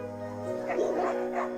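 An Anatolian working dog gives a few yipping barks near a sustained droning tone, with faint talking in the background.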